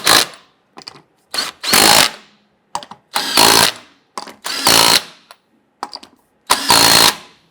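An impact or power tool snugs down the lug nuts on a 1997–2006 Jeep Wrangler wheel, firing in several loud, close bursts of about half a second each, with short pauses in between.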